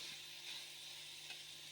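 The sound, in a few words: chicken and vegetables frying in a pan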